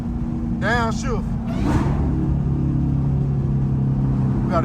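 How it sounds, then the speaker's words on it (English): A hoodless Dodge Hellcat with a faulty drive shaft, its loud, close engine droning steadily and shifting tone partway through as it downshifts, while someone talks briefly over it at the start. "Downshift."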